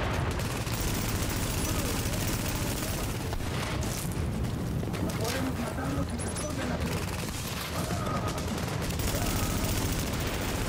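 Rapid gunfire crackles through a firefight in The Division, dense and continuous with bursts of shots under steady background noise, while a player speaks over the action.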